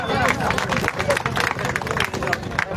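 Loud crowd clapping at an outdoor Sindhi community unveiling ceremony for the Shaheed Hemu Kalani Chowk in Bhadra, with dense hand claps mixed into crowd babble and voices talking over it throughout.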